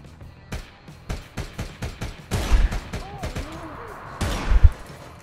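A pistol fires repeatedly in the online shooter APB Reloaded, a rapid, irregular string of sharp, close shots that builds toward heavier bursts near the end, with a player's voice talking in between.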